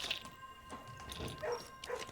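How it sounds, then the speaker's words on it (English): Dogs bark in the video game Blue Prince, heard as faint, distant yips and short barks scattered over a quiet background hum. "Does anyone get, like, annoyed hearing the dogs barking in here?"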